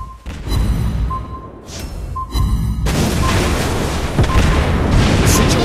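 Game shell hits explode in World of Warships Blitz, a Tier 4 Japanese battleship Ishizuchi battle, sounding as heavy booming blasts over a dense, continuous roar of combat noise, louder and fuller in the second half.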